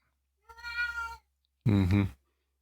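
Two clear synthesized cat meows from the Sega Genesis game Shadowrun, the first thinner and longer, the second louder and lower, separated by a short pause and with no voice over them.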